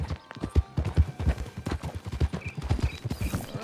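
Steady clip-clop of horse hooves at a walking pace in Red Dead Redemption 2, close and fairly loud, with faint background ambience and a brief snort.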